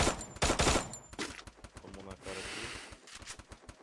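Video game gunfire crackles in bursts of sharp rapid shots, loud at first and then lighter, while someone talks over it.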